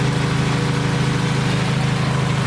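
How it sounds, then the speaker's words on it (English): A Chevy Cruze engine running steadily, a loud close continuous drone with an even rhythmic pulse and nothing else over it. "The engine is sounding pretty fantastic."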